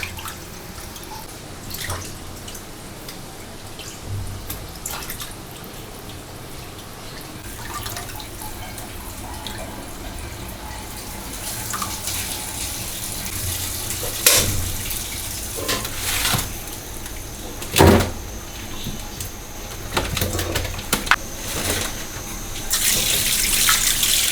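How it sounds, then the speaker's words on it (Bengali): A large fish is washed under a running kitchen tap, with a steady close stream of water, splashes and drips, and occasional sharper knocks and splatters as the fish is handled. No one speaks. "মাছটা বড় হলেও ডিমবিহীন ভালো করে ধুয়ে আজকে রান্না করো"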